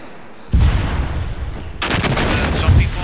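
A rocket launcher fires with backblast in a modern jungle combat video game, a sudden loud boom followed by a sharp roaring blast and a sustained rumbling wash.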